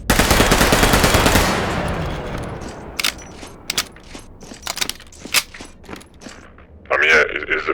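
MP40 submachine gun firing in Garry's Mod, a loud rapid burst over the opening second and a half that trails off, followed by scattered metallic clinks and light taps.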